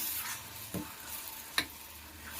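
Brinjal gojju, an eggplant dish with fresh coriander just added, is stirred in a pan: two distinct scraping strokes stand out over a soft, steady sizzle, with no talking.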